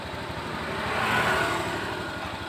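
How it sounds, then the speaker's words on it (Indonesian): A steady fuel-injected motorcycle engine running at idle, continuous and fairly loud, with a low rhythmic throb and a faint swell midway. "Ini hidup, kan getar-getar tuh motornya."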